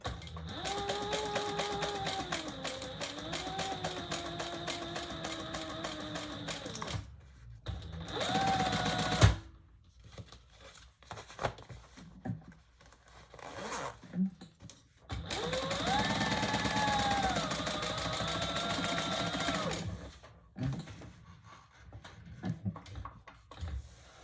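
Sewing machine stitching a messenger bag, running in steady bursts of rapid, close stitching with pauses between runs and a couple of short idle gaps in the middle.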